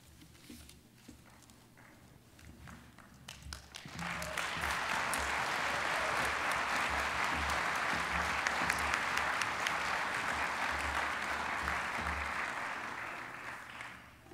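Ceremony audience at a nurses' graduation breaking into applause, quiet at first, then swelling after a few seconds into loud, full, sustained clapping from a large crowd that holds steady to the end.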